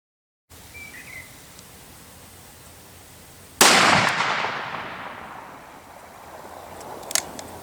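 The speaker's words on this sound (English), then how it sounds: "You definitely know it when that thing goes off, though." A single loud gunshot from a Smith & Wesson 500 Magnum pistol fired outdoors, a sharp blast that decays over a couple of seconds after a quiet lead-in, followed by faint ambient noise.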